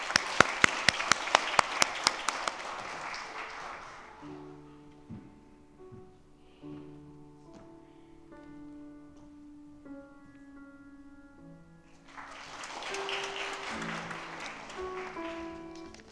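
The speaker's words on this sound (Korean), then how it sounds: "큰 박수로 부탁드리겠습니다" Church congregation applauding during a Sunday afternoon new-family welcome service: a burst of sharp claps swells into dense applause, fades under soft sustained keyboard chords, then rises again near the end.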